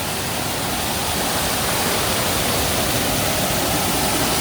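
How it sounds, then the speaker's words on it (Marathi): Close, constant rush of a little waterfall spilling into a flowing stream near Kudli on the Revdanda coast, even in level and free of talk. "छोटासा धबधबा आहे ते"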